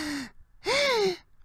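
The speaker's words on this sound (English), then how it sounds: "Why are you two gasping?" Two sharp intakes of breath, a short gasp followed by a longer, rising and falling one, close and clear with nothing else around them, from contestants in an animated elimination-game show.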